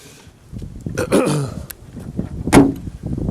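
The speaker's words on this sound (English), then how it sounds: "Doors shut nicely." The door of a Land Rover 88-inch station wagon is swung and shut, giving two solid metallic thumps about a second and a half apart, close and fairly loud with no talk.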